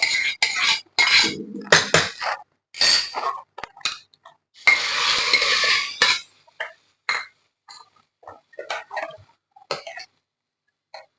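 Metal utensils clink and scrape against a pot while fried tempering is added to a quick lentil-free tiffin sambar, irregular bright clatters with brief pauses and one longer rattling scrape.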